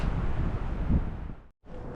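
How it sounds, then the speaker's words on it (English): Strong wind at Everest Base Camp buffets the microphone with a loud, rumbling roar that cuts out for a moment before gusting back in. "It's windy and it's sunny, so it's difficult to walk as well."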